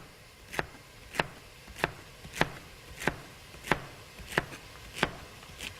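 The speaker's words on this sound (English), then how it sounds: "So I'm just dicing up some celery." A knife dicing celery for bean soup on a cutting board, nine crisp, evenly spaced chops about every half second, fairly quiet and close, with no talk.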